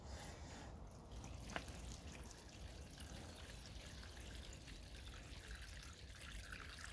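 Water poured from a watering can onto potted tomato seedlings, a steady close trickling and splashing that runs without pause, with one brief knock partway through.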